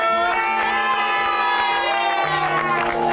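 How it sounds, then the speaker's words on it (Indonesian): A crowd outside a house cheers and shouts loudly, with children's high voices rising over the noise and light clapping mixed in, the whole burst sustained and close. "boleh tepuk tangan semuanya"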